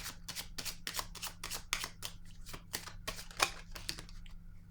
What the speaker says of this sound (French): Je vais peut-être juste piger une... En tout cas, je vais voir. Je vais écouter ma limite, là. Je vais déposer une carte ici.